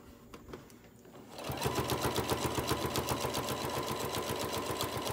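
A sewing machine starts up after a quiet moment and stitches through six or seven thick layers of fabric, its needle thumping in a fast, steady rhythm with a labored mechanical whir, close and clear.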